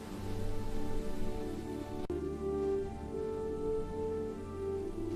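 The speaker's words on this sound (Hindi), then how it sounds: "बादल आए, बारिश हुई और खेत दोबारा हरे हो गए।" Rain falls over village farm fields in a steady, even hiss that lasts throughout, with faint tonal hum beneath it and one sharp click partway through.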